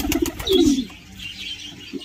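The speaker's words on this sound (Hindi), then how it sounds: "तो ये नर यहाँ पे गुटक रहा है" A male pigeon coos close by in a bird enclosure, giving a low throaty burst that rises and fades, with a few soft chirps and rustles around it.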